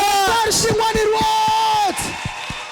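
A church congregation at a deliverance service shouts acclamation to the Lord, a loud sustained collective cry with a leading voice rising above, fading after about two seconds into softer voices.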